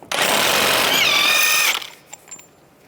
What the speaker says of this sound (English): Now I'm going to take a 32mm socket, take the nut off.